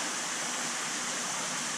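Pumps push water up through an aqueduct into a shower tower filter on a 25,000-gallon aquarium, a dense, steady rushing splash like a small waterfall, loud and unbroken throughout.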